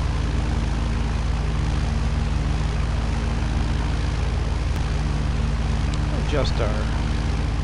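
Zodiac 601 light airplane engine droning steadily at reduced throttle on approach to a runway, a constant close cabin roar with a brief voice speaking over it.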